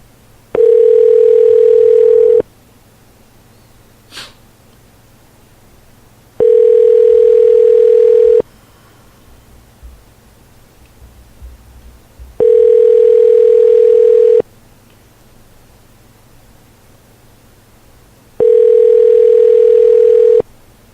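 Telephone call waiting for an answer: four loud, evenly spaced two-second ringback tones separated by quiet gaps, with no voices.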